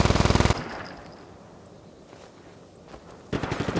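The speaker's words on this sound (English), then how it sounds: "Machine gun time." Rapid machine gun fire in the video game Just Cause 3, two loud close bursts of evenly spaced shots at the start and end with a quieter gap of game ambience between them.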